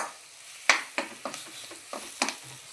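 Red chilli powder, coriander-cumin powder and turmeric being stirred in a hot pan for a capsicum and onion vegetable dish: a soft sizzle broken by about eight crisp, uneven spatula scrapes and taps up close.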